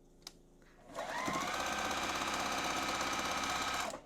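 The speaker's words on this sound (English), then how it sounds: "sew without cutting our thread. We haven't cut our thread on our machine." A domestic sewing machine chain-piecing quilt patches for a Friendship Star block, stitching continuously without cutting the thread; a soft click comes first, then a steady close, loud whirring run of about three seconds that stops abruptly.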